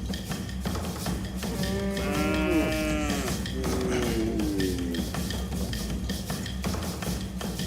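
Cattle moo loudly and nearby at an Ethiopian bull-jumping ceremony, two long drawn-out calls in a row over a constant low rumble of outdoor noise.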